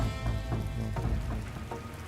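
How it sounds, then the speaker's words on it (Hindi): Steady rain falls during a sudden monsoon storm, a dense continuous patter with low rumbling undertones, fairly loud and unbroken throughout, with no voices. "बारिश में हम तो पूरी तरह से भीग गए।"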